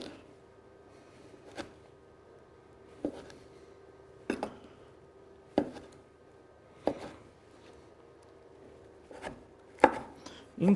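Knife chopping an ingredient into medium cubes on a wooden board for a pork rib quibebe, with about nine sharp, separate knocks at uneven intervals, close and moderately loud against a quiet kitchen.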